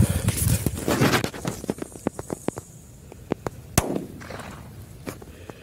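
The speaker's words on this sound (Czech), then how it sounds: "Takže jako první petarda Dumum Pirát." Dum Bum Pirát firecracker set off outdoors, a rapid burst of sharp cracks and pops that thin out into scattered bangs, capped by one loud close report near the end, with no talk.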